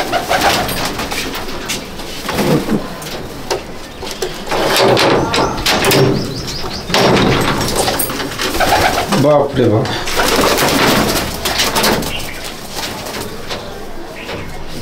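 Male pigeons coo in a loft in Icchapur, North 24 Parganas, their soft repeated coos continuing throughout, with people talking over them and a door sliding partway through.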